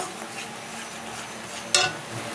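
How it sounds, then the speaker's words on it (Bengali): Curry masala for a Bengali yogurt catla fish dish fries quietly in a pan under a low, steady hiss, broken by one sharp metallic spatula clink near the end. "এটা যতক্ষণ না তেল ছাড়ে ততক্ষণ এটা কষাতে হবে।"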